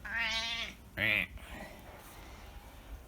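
A cat meows twice indoors, a drawn-out cry followed by a shorter, higher one, fairly close, with quiet room noise afterward.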